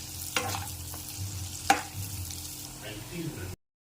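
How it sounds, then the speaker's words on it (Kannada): Finely chopped onion fries in a pan for paneer mutter masala, a quiet sizzle under two sharp spatula knocks and some soft stirring scrapes before cutting to silence. "ಈಗ ಇದಕ್ಕೆ ನಾನು ಸಣ್ಣದಾಗಿ ಹಚ್ಚಿಟ್ಕೊಂಡಿರೋಂಥ ಈರುಳ್ಳಿನ ಸೇರಿಸ್ಕೊತಾ ಇದ್ದೀನಿ. ಮತ್ತು ಈರುಳ್ಳಿ ಕೆಂಪಗಾಗೋವರೆಗೂ ಇದನ್ನು ಹುರ್ಕೋಬೇಕಾಗತ್ತೆ"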